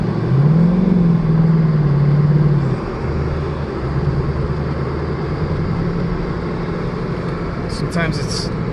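A 2018 Mustang GT on Michelin X-Ice snow tires revs hard while its wheels spin trying to climb a snowy hill in a blizzard. A steady engine drone rises and holds, then falls to a lower rumble, with a person talking over it.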